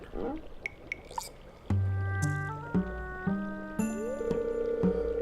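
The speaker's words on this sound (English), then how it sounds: "My cauldron is bubbling with ingredients from the forest." Rising, plopping bubbly tones pop over a low steady drone as a magical cauldron bubbles in Stardew Valley, with a few bright chimes scattered through.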